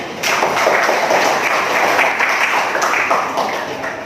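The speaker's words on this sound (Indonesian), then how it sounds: "Tepuk tangan untuk semuanya." Applause from a class of students in a school lesson, steady dense clapping filling the room, fairly loud and continuous before tapering slightly.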